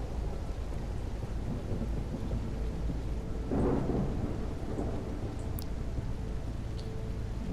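Steady rain in a psychological horror game set in a demonic motel, with a low rumble of thunder swelling midway and a few faint drips above the downpour, no speech.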